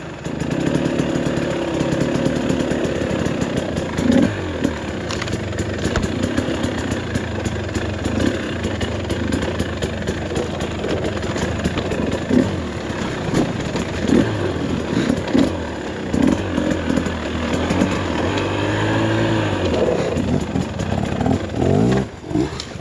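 A brand new 2024 TE300 dirt bike on its first trail ride, its two-stroke engine running loud and close, burbling and revving in uneven bursts with no voices over it.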